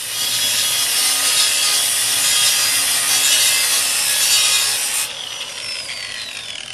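A 3000-grit pad polishes granite, making a loud, steady, close whirring rub that drops abruptly in level near the end, with no voices.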